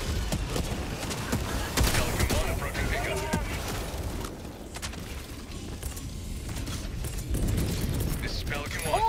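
Weapon reloading in Helldivers 2, mechanical clicks and ratcheting amid dense gunfire and battle noise, with voices shouting throughout.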